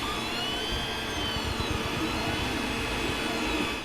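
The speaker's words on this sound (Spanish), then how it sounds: "¿Y estás cansado de que haga tanto ruido imprimiendo tus piezas?" Creality Ender-3 3D printer running while printing, a steady close whirring hum of fans and motors with faint high tonal whines from the stepper motors, heard alone.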